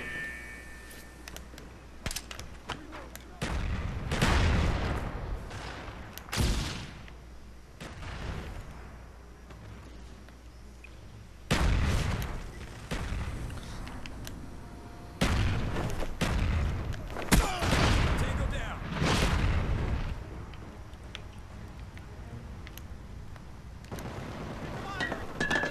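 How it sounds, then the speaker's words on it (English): Napalm strike explosions in a search-and-destroy match of a first-person shooter game: repeated heavy booms and crackling blasts burst out at irregular intervals, loud and close, with a player talking between them. "Napalm strike waiting for your mark."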